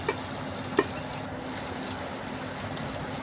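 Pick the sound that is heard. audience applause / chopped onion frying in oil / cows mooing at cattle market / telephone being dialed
chopped onion frying in oil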